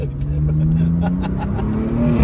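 Car engine revving hard on a Paris street outing, a loud sustained rising drone close by with people talking over it.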